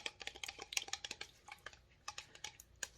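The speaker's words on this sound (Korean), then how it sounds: "2g 이렇게 먼저 저어줍니다" Ceramide powder is stirred into a homemade lotion mixture, making quick, light clicking and tapping sounds in an uneven rhythm, faint and close by.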